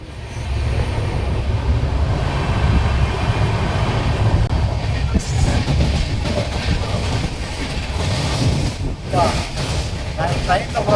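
A train sleeper compartment rolling along the rails, a loud steady rumble with rhythmic clatter and hiss, and a voice talking over it partway through.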